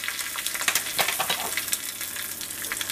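Curry leaves, dried red chillies and asafoetida crackle and sizzle in hot tempering oil off the heat, a dense, close, continuous frying hiss with sharp popping bursts and no talk.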